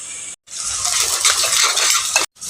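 Onions frying in a pan crackle in a close, bright hiss that cuts off abruptly at both ends, with light stirring scrapes running through it.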